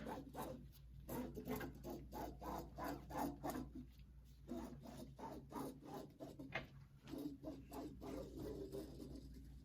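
A marker scratches along the edge of a paper sewing pattern laid on fabric for lounge pants, tracing the outline and ticking in a notch, heard as a quiet, close series of rhythmic rubbing strokes with brief pauses.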